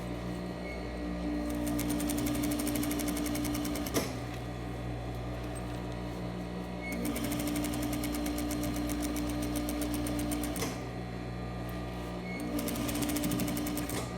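A sewing machine back-stitches a skirt seam in three loud runs of rapid, even needle clatter, each broken by a brief pause, close and alone.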